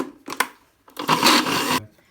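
An electric grinder grinds sesame seeds into tahini as sunflower or corn oil is added gradually, with two short whirring pulses and then a longer, louder grinding burst that stops abruptly.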